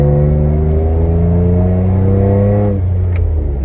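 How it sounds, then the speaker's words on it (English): A lifted 2008 Jeep Wrangler Unlimited revs its engine, the exhaust note rising steadily in a loud, close run before dropping off sharply to a lower idle rumble. "Exhaust sounds good."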